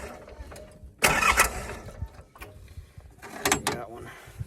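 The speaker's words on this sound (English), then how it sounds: "if you just crank the engine over" A mini excavator diesel engine cranks over in two uneven bursts of churning, rattling noise outdoors, with quieter mechanical clicks and handling sounds between them.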